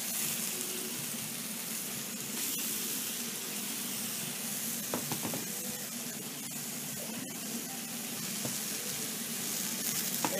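Tomatoes, bay leaves and garlic sizzling in a jambalaya pot, a loud, steady hissing fry with occasional crackles and pops, close and continuous.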